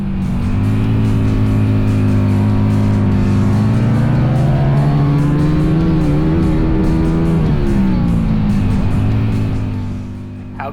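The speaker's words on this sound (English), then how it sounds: "getting to see the Harley-Davidson XR-750 going head to head with the Indian FTR 750 one more time" Harley-Davidson XR-750 and Indian FTR 750 flat-track racing motorcycles in a final race roar loud and close, engines howling steadily with pitch rising and falling through the corners before fading slightly at the end.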